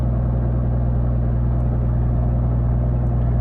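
Steady engine drone from a BMW E36 fitted with a 1.5JZ engine at a drift competition, a constant low rumble holding an even pitch without clear revving or tyre squeal.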